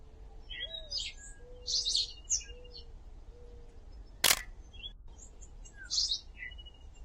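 Sharp single click of a single-lens reflex camera shutter stands out mid-clip, loud and close, against a quiet outdoor background of birds chirping and tweeting softly.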